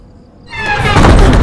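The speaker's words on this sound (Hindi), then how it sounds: "दरवाजा ऑटोमेटिक खुला।" A door swings open by itself in a Hindi horror comedy film, a sudden rising whoosh with a ringing edge that grows loud and close.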